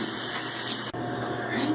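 Tap water runs steadily to rinse off a face scrub at a bathroom sink, a continuous close hiss that drops out for an instant and resumes, with no talking.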